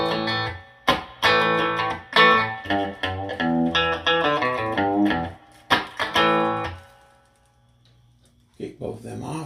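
Bass guitar played through an Ampeg Jupiter 42/B-42X amp with reverb, ultra high and ultra low engaged, a run of loud plucked notes with ringing sustain that fades to near silence before a brief soft return.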